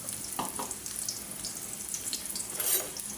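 Onions frying in oil in a pan for papaya bhaji, a steady soft sizzle with faint crackles and occasional light clinks, fairly quiet and without talk.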